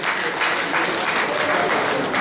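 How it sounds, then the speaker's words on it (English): Audience at a delegates conference gives a round of applause, a dense, steady wash of many hands clapping that fills the room for a couple of seconds at fairly loud level. "Let's please put another round of applause for him."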